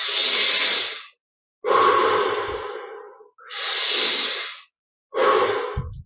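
Slow, deep breaths during a guided meditation, loud and close, with long airy inhales and exhales alternating with short silent pauses.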